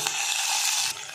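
Onion frying in hot oil for a tempering, a loud, close, continuous sizzle that drops off slightly near the end of the short burst.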